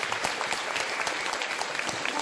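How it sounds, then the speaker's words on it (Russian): A concert audience at a folk orchestra performance bursts into dense, continuous applause, heard fairly close for a couple of seconds, with a voice speaking faintly underneath. "Ваши аплодисменты."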